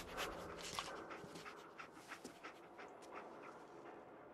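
Dogmeat, the dog companion in the video game Fallout 4, pants and sniffs in quick rhythmic bursts, faint and steady throughout.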